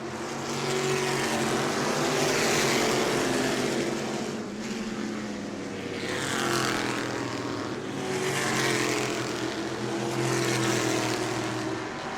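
Race cars at a New Smyrna weekly racing event, a dense roaring engine drone that swells and fades as cars pass, loud and continuous with no other sounds over it.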